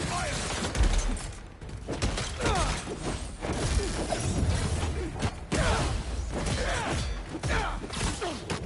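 Gunfire in the video game PEAK comes as rapid, close bursts of shots mixed with crashes, thuds and whooshes, loud and jumbled throughout. Voices can be heard in the mix.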